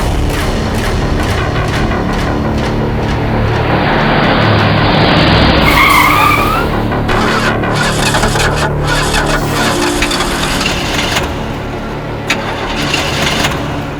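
A car skids hard with screeching tires, then its engine sputters and cranks as it breaks down, loud and close with no talk over it.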